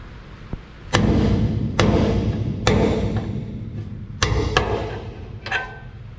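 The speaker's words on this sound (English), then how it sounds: "You can just knock it straight through." A hammer knocks a piece straight through a metal panel during repair work, with six or so sharp, ringing blows spaced roughly a second apart, close and loud with no talking.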